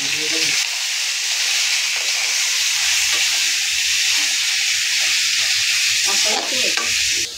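Leafy greens hitting a pan of fried garlic give a loud, steady sizzle with steamy hiss, broken by clattering stirs, lasting throughout with no talk over it.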